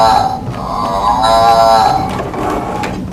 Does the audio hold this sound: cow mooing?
yes